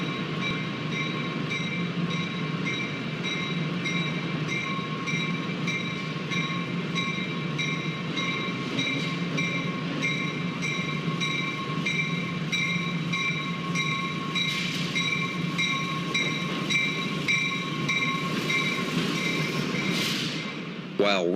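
A Metra commuter train in Chicago, near Randolph Station, hums and rumbles steadily with a sustained tonal whine, ending in a short clatter.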